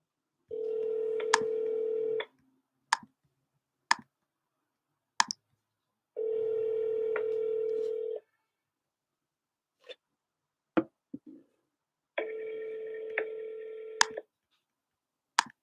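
Telephone call tones: three long ringback tones with short clicks and blips between them, heard alone at moderate volume with no talking.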